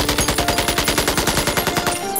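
Rapid automatic gunfire rattles in a fast, even burst of about ten shots per second, loud and close, with no talk over it and a sudden stop near the end.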